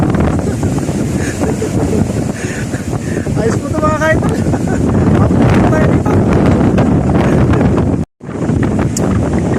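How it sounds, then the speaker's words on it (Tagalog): Strong wind buffets the microphone in a steady roar over rough open sea while fishing, with someone talking throughout and a brief dropout near the end. "malakas na po yung hangin mga ka-idol"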